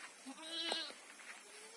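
A goat kept at a family home bleats once, a wavering nasal cry rising and falling over a second, fairly close and quiet, with faint background sounds around it.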